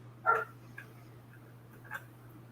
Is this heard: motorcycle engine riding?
no